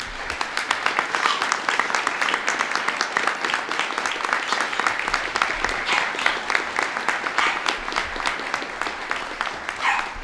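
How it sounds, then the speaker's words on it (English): Audience at a North Reading Veterans Day ceremony applauding the standing veterans: sustained, fairly close clapping from many hands, even and dense, with a few sharper claps standing out near the end. "I'd like to give them all a round of applause for their service and their sacrifices"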